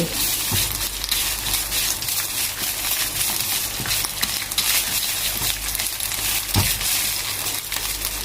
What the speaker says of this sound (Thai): เริ่มเลยใส่น้ำมันในกระทะ เดี๋ยวใส่พริกแกงลงไปค่ะ ผัดเลย